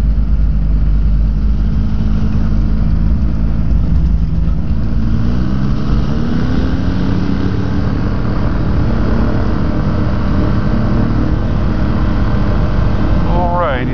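An aircraft engine runs before a flight on a day of extreme wind, giving a loud, steady, unbroken drone that lasts throughout.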